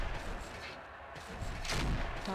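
A mech cannon in the video game MechWarrior 4: Mercenaries fires with a heavy booming blast near the end, following a dense rumble of battle noise.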